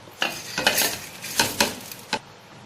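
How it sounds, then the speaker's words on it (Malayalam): Soaked rice for neer dosa goes into a mixer grinder jar in several quick, close pours, giving short rattling, scraping bursts with brief pauses between them. "ഞാൻ അരി ഇതിലേക്ക് ഇട്ട് കൊടുത്തിട്ടുണ്ട്"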